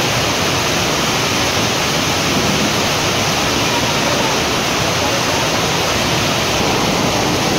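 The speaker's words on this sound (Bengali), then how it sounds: "প্রচণ্ড জোরে বৃষ্টি হচ্ছে, বিশাল জোরে বৃষ্টি হচ্ছে" Heavy rain pours down in Mussoorie, a dense steady roar that fills the whole clip without a break and with no voices over it.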